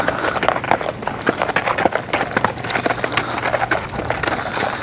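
A driven team of horses clip-clops steadily, with hooves striking in a busy continuous rhythm under broad rumbling noise, close by and fairly loud.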